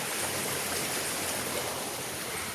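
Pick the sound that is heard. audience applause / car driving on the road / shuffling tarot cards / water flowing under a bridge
water flowing under a bridge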